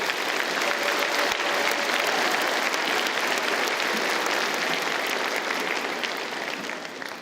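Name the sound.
applause for staff and volunteers at a graduation ceremony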